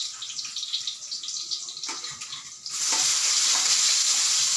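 Garlic and onion frying in a pan for a budget Filipino dish. A crackling sizzle swells into a loud, steady hiss partway through as more goes into the hot oil.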